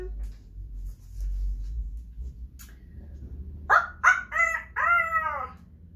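A rooster crows in a read-aloud children's story, a short series of loud harmonic calls near the end after a quiet stretch, likely a voice imitating the bird.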